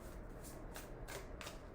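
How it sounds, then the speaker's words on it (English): Tarot cards shuffled by hand in a few quick riffling bursts, close and fairly quiet, with no talking. "And let me shuffle it once more."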